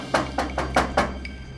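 Someone knocks on a closed green front gate, five sharp, evenly spaced raps that sound close and loud, followed by a faint higher clink at the end, with no voices.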